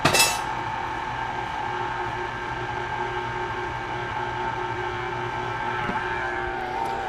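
A KitchenAid stand mixer runs on its low setting, mixing chocolate chip cookie dough; a steady, close motor hum with a sharp clink at the start, continuing evenly with no talking.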